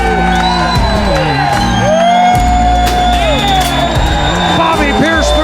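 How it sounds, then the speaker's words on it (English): A dirt-track racing crowd at the Dome erupts in loud, sustained cheering and whooping, a dense wall of voices holding for several seconds with announcer-like shouting over the top. "The crowd erupts."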